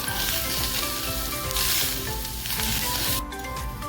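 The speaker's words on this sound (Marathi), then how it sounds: "हे 2 मिनिटं परतवून घेऊया।" Grated coconut roasts in a pan for rose-shaped ukadiche modak filling, a dense, loud, steady sizzle close up with faint stirring movement underneath and a brief dip near the end.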